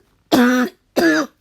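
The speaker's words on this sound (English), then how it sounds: "I just have a terrible cough." Two separate raspy, voiced coughs or throat-clearing bursts from one person, close and loud, with a brief silence between them.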